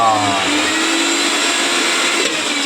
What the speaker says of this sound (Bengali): দিদি ভাই মিক্সিতে কি করছো ওটা কি করছো কড়াইশুটি পেস্ট হচ্ছে